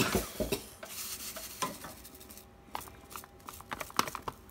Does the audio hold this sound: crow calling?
no